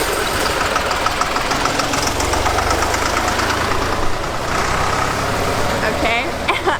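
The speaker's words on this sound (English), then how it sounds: "there's a tractor in my way" A tractor engine runs close by on a street during a summer walk in Russia, a steady mid-pitched rumble with knocking undertones, loud and continuous while a person talks over it.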